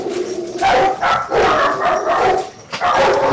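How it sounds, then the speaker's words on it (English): Dogs bark loudly and repeatedly in the Sons of the Forest video game, a dense run of barks and yips that fills the clip with only brief gaps. "I think I set off your dogs."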